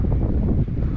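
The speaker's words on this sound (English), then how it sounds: "we've got 40km/h gusts" Strong gusting wind, around 40 km/h, blows across a beach in Amlwch, Anglesey, North Wales, roaring loud and low as it buffets the microphone continuously, with brief dips between gusts.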